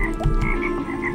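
Frog croaking in the Toki Tori 2+ video game, a loud, close, bubbly croak repeating a few times over a steady low game hum, with no talking.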